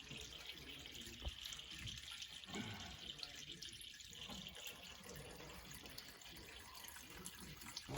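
Water runs steadily into a tractor radiator during antifreeze work before corn planting, a continuous close trickle and splash that swells and dips slightly and carries on without talk.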